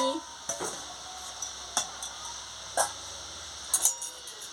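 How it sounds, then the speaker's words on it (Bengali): Soybean chunks are stirred into boiled potatoes in a cooking pot, with a few separate metallic scrapes and clinks of a spoon against the pot over a faint background sizzle. "এবার আমি দিয়ে দিচ্ছি সোয়াবিনটা দিয়ে একটু নাড়িয়ে নিচ্ছি"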